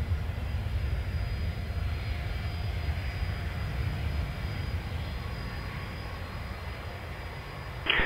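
A Singapore Airlines jet, registration 9V-SCL, lands on runway 03 with a steady broad engine roar at moderate distance, holding level throughout before a sharp burst right at the end.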